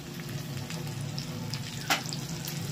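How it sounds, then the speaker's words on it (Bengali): Chopped garlic, ginger and green and ripe chili frying together on a fairly deep tawa, a steady close crackling sizzle with a faint scrape partway through. "সব কটাকে একসাথে ভেজে নেব"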